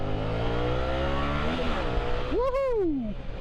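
A Yamaha MT07 A2 motorcycle accelerates on an urban ride, its engine note rising steadily through the gears with wind rush, then a rider's voice briefly cries out over the engine near the end.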